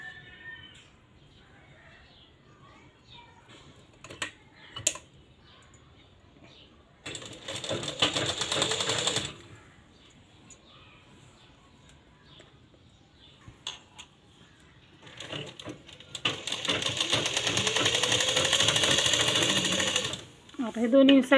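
A sewing machine stitches lace onto fabric for a fish-cut blouse in two sustained whirring runs of several seconds each, near and fairly loud, separated by quieter handling noises and small clicks.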